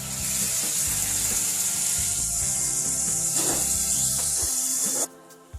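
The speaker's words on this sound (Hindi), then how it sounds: "1 मीडियम साइज का ऑनियन इसमें आपने चॉप करके ऐड करना है और उसको आपने ब्राउन करना है।" Chopped medium onion browning in hot oil for beef paya, a steady, loud, close sizzle with occasional stirring scrapes and clatter, no talk, cutting off abruptly near the end.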